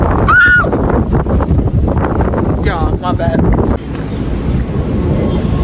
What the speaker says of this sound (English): As you can see, the wind is windy today.